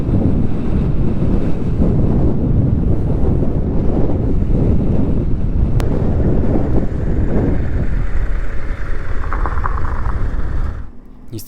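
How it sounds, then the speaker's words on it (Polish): Strong wind on a motorcycle trip across Morocco, buffeting the microphone with a loud continuous roar and rumble that drops away sharply near the end. "okazało się, że ten wiatr jest naprawdę problematyczny"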